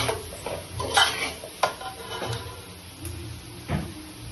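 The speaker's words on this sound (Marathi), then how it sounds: "मसाला टाकून चांगल्या प्रकारे हलवून घ्यायचा" Spice masala being stirred in a pan, with irregular scraping and clinking of a spoon against metal over a faint sizzle, moderately close.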